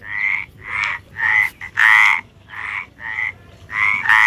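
A frog croaks in a quick series of loud, nasal calls, about nine bursts in four seconds, close and alone with no voices.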